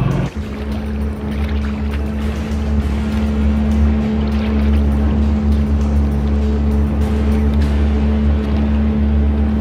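A lifeguard motorboat engine running at full throttle, with a loud, steady, droning hum and continuous water and wind rush throughout.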